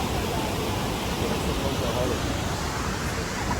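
A waterfall in the Daintree rainforest gives a steady, even rush of falling water that fills the whole short stretch without any break.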